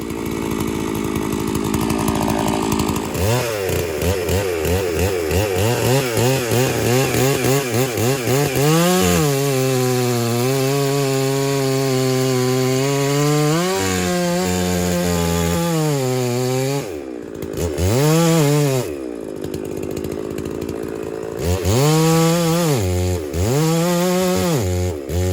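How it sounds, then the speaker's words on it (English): A 92cc chainsaw, a STIHL 660 clone, screams at high revs cutting wood, with loud rising and falling engine pitch as it bogs into the cut and revs back up, several passes close by. "let's compare that to a 92cc chainsaw real quick"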